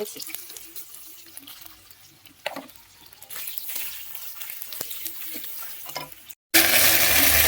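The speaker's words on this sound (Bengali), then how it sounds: "এখানে পনিরের আলুগুলোকে দুগুলো করে কেটে নিয়ে একদম লাল লাল করে ভাজছি" Halved potatoes sizzle in hot oil while frying to deep red for a home-style paneer curry; a soft, steady crackle with occasional stirring clatter, ending in a louder burst of hiss.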